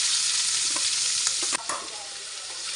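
Onions frying in oil with garam masala and bay leaves, a loud, even hiss of sizzling with a few stirring scrapes near the middle, heard up close with no speech.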